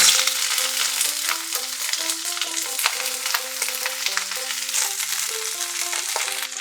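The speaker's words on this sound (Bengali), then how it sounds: "তেল গরম হয়ে গেছে, ফুলকপিগুলো ছেড়ে দিচ্ছি।" Large cauliflower pieces hit hot oil and fry with a steady, loud broadband sizzle, while a stepping melodic music track plays throughout.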